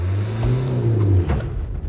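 Old £500 van with a doubtful, underpowered engine accelerating, a close, loud low drone that rises slightly in pitch, then drops away as the revs fall near the end.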